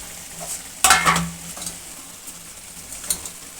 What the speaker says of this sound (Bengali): দেখতে পেলে ভেজে রাখা মাছগুলো দিয়ে দিলাম